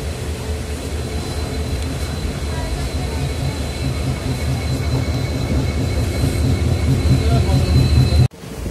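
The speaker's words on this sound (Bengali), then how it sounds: "আমাদের ট্রেন ছেড়ে দিল শিলচর থেকে" A train leaving Silchar gives off a continuous heavy rumble, with wheels running on the rails and faint squeals. The noise is loud and steady from inside the train, and a voice may be faintly present under it before the sound cuts off abruptly.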